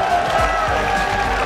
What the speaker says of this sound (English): getting a good cheer from the crowd